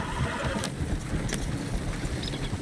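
A horse in the video game Red Dead Redemption 2 gives a couple of brief neighs over a dense, steady ambient bed of outdoor game noise, fairly close but partly masked.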